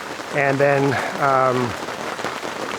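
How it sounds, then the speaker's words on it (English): Steady rain patters on a surface outdoors throughout, a constant hiss under a voice speaking briefly near the start. "Rain started, so I brought you guys under shelter myself as well."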